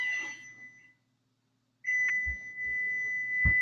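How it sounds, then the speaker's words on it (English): Inside a home near a dining room, an electronic beep sounds as a steady high tone, cuts out for about a second, then resumes with a few low thumps and knocks around it. "What's that beeping?"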